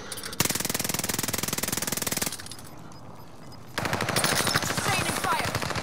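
Rapid automatic gunfire in a battle royale shooter, two long sustained bursts of fast rattling shots separated by a brief pause, loud and close, alone with no talk.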